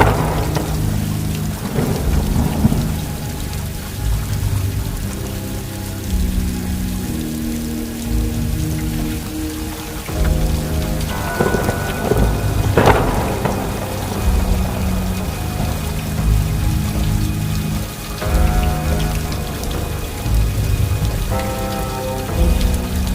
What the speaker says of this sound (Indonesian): Mereka terjebak dalam hujan, badai, kabut, dan angin.